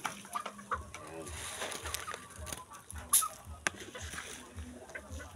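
Texas-breed hens from an Aguilar bloodline cluck and call on a farm in Pampanga, short irregular bursts over a busy, noisy yard background.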